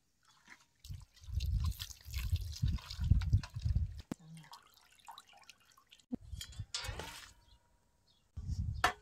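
Chicken is rinsed in water with turmeric, producing bursts of close splashing, dripping and trickling separated by short quiet gaps.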